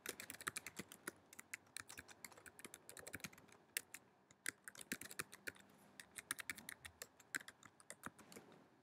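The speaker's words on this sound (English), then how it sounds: "Click on Create New and I'll type in all the information." Rapid keystrokes on a computer keyboard while guest details are entered into an ordering system, steady irregular clicking close up with no talk.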